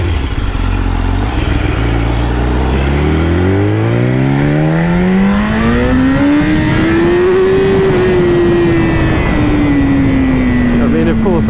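A BMW HP4 superbike engine accelerating hard in first gear, its exhaust note rising steadily in pitch to a high wail before easing slightly, loud and close, with wind roar throughout.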